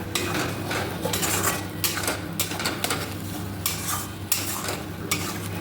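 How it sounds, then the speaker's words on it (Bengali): Masala paste for chicken kosha being stirred and sautéed in a pan: a soft sizzle under repeated scraping and clinking of a spoon against the metal, steady and close. "মশলাটা একটু বেশি করে কষিয়ে নেব"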